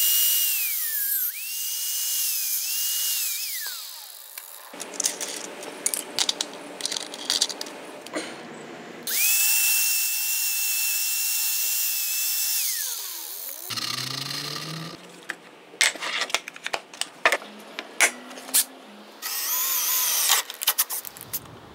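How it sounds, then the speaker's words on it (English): A power drill bores holes in a bracket with bursts of high whining motor spin-ups, some sustained and some short, broken by clattering, scraping and knocks of metal parts being handled, all close by. "drilling a couple holes, making it fit perfectly right in here"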